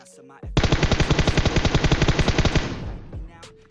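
An M4 rifle fires in the video game PUBG as one fast automatic burst of roughly twenty evenly spaced shots, loud and close, which cuts off and leaves a short echoing tail.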